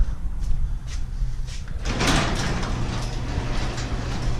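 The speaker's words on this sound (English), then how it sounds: "let me shut the garage door here" A garage door is pulled shut in a home garage, giving a loud sliding rumble that ends in a clattering close, heard nearby with no talking.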